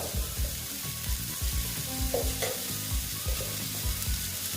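Spices fry in a pan as coriander powder goes in, giving a continuous close sizzle with soft, repeated stirring scrapes and faint clinks throughout.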